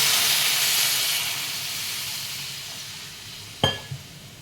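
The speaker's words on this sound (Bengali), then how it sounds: "এখন আমি পরিমাণ মতো জল দিয়ে দেবো।" Water poured into a pan of fried fish for a fish curry, a loud broadband steamy hiss that slowly fades, then a sharp clatter near the end.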